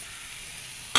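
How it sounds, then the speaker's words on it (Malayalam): Macaroni masala sizzling steadily in a pan as it is stirred, a constant soft frying hiss throughout that ends in a brief louder scrape of the spoon. "നന്നായിട്ട് ഇളക്കി കൊടുക്കട്ടെ"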